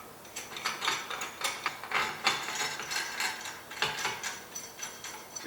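A homemade threaded-bar headset press for a mountain bike being wound up, giving a rapid, regular series of close ratcheting clicks throughout with no talking.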